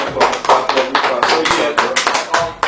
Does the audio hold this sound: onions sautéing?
no